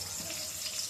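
Cooked mung dal pours from a pot in a short, steady liquid rush, close and continuous for under a second.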